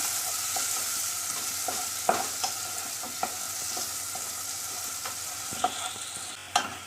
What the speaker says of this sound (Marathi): हा टॉमॅटो पण चांगला मऊ करून घ्यायचा